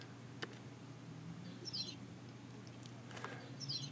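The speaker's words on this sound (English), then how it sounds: "It's like a bird chirp, but I made it to sound so that it really is a part of the groove." Synthesized birdie chirps from an electronic dance track, a few short high twittering blips spaced across the groove over a low steady hum, faint and quiet.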